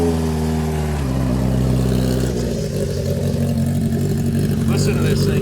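1975 Honda CB400F motorcycle engine idling, then revving up and settling into a busier, rising mechanical rumble, close and loud, with a voice briefly under it.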